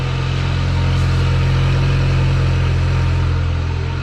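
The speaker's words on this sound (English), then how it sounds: "I hope that noisy alternator just like stops with the noise." A Pontiac Sunfire engine idles close by, a loud, steady low drone with even pulsing, overlaid by a faint continuous whine from a noisy alternator, no talk.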